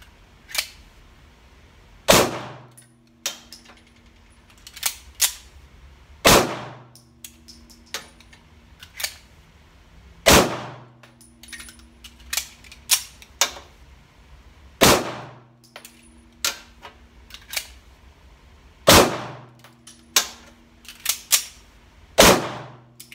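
A Kimber Team Match II 9mm 1911 pistol fires a string of sharp, loud cracks spaced a few seconds apart, interleaved with lighter metallic clicks and clatter during handling and reloads.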